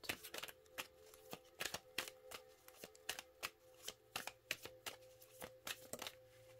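Tarot cards are shuffled and drawn in quick, irregular riffling snaps and slaps, close and soft, with a faint steady hum behind them and no talk.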